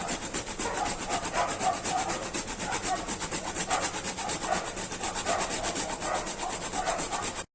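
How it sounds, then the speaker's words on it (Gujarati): Nutmeg scraped back and forth on a grater while kheer boils, a steady close rasping rub that runs continuously for several seconds with no talk over it. "હવે જાયફળ છીણી દઈએ"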